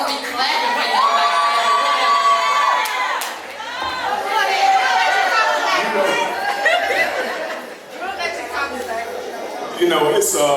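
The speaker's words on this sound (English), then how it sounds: "Y'all are not supposed to be clapping for y'all" A crowd at a middle school gathering cheers, whoops and shouts loudly and continuously, with children's voices and lively chatter mixed through the noise.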